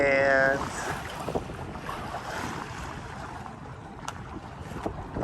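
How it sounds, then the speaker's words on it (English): A Catalina 30 sailboat out on a bay under sail, with steady wind buffeting the microphone and water washing along the hull, a continuous close rush with faint brief voices near the start. "first sail of the year, first time out on the water,"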